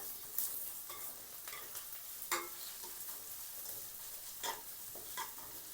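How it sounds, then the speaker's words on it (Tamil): Dried tuna (masi) sautés in oil in a pan for a capsicum curry, giving a faint, steady sizzle with occasional soft stirring scrapes and light taps from a nearby utensil. "இந்த மாசியை சேர்த்துட்டு இந்த எண்ணெயில் நிறைய நேரம் பதங்க விட்டீங்கன்னு சொன்னால் இது கொஞ்சம் கடினமாகிடும்"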